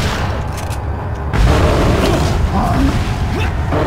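Shotgun blasts in Resident Evil 4 during a fight with El Gigante, a heavy boom followed by dense rumbling game action and clattering effects, loud and up close.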